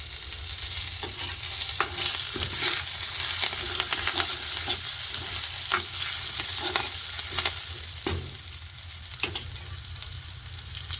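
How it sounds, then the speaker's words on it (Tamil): Curry leaves stirred into a hot oil tempering, a steady loud sizzle and crackle broken by repeated scraping strokes of a spoon across the pan, with no voices. "இப்போ நாங்கள் வெட்டி வச்சிருக்கிற ரம்பையில கருவேப்பமிலையையும் இந்த தாளிதத்தோட சேர்த்து ஒருக்கா கிண்டி விட போறோம்"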